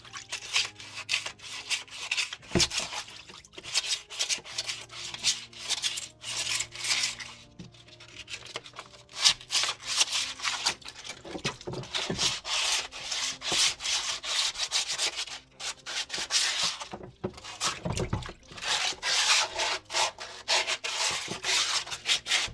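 Paint on a 1982 Corvette being scuff-sanded by hand with 220 grit sandpaper makes close, repeated scratchy rubbing strokes in an uneven back-and-forth rhythm, with brief pauses between passes.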